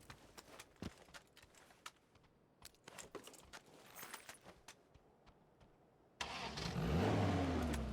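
A car in PUBG ticks along with scattered clicks, then its engine surges loudly into a rising acceleration roar for the final stretch.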